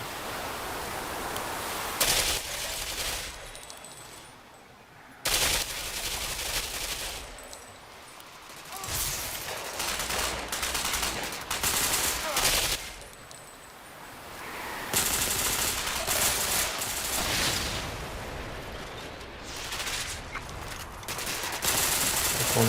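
Gunfire in the online shooter Ghost Recon Phantoms: long sustained bursts of automatic fire and heavy fusillades, loud and continuous with brief lulls, while a player talks over the shooting.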